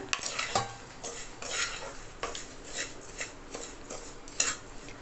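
A spoon scraping and clinking against a bowl while garlic idli podi powder is mixed, in uneven strokes with sharper taps, close and fairly quiet.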